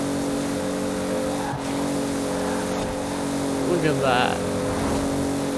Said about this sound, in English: This Supra handles like a dream.